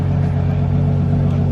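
A Ferrari Purosangue V12 idles at the Goodwood Festival of Speed supercar paddock, giving a loud, steady, deep engine burble that stays even from start to finish.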